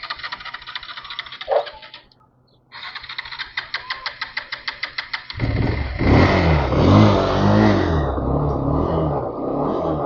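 A motorbike with a battery problem cranks with a rapid run of ticking starter pulses, then catches and roars into a loud, close, revving idle that holds steady.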